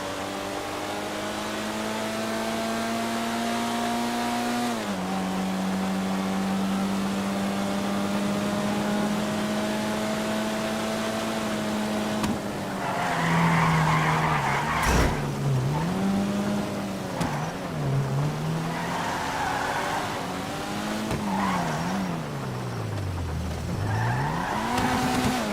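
A Vapid Rune Mark II sports car in a video game runs steadily, its engine note dropping and rising between shifts, then skids with squealing tires while wavering through turns, with no one talking.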